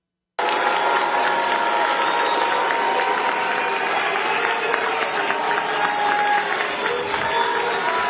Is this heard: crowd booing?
yes